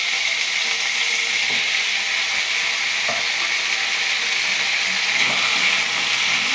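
Red amaranth stalks frying with chilli and mustard seed in a hot pan give a steady, dense sizzle with faint stirring scrapes, close and continuous without pause.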